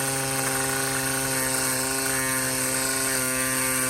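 A new WORX cordless string trimmer cutting around a patio runs at a steady high whine, loud and close, holding an even pitch throughout with no voices over it.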